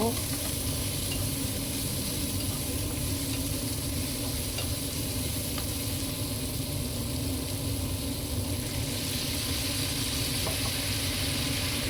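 Pork stir-fried in a pan with cucumber and onion gives a steady, dense sizzle with occasional stirring scrapes, continuous and fairly loud throughout.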